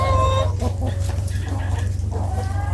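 Hens in a backyard coop cluck steadily during egg collection, several birds close by over a constant low hum, with no talking.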